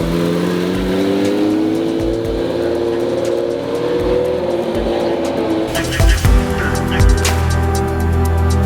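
Ferrari SF90 in launch specification pulling away hard, a loud, close engine with a rising rev sweep and sharp bursts near the end, street ambience around it.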